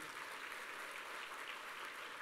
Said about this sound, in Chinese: 给爱多美一个掌声啊！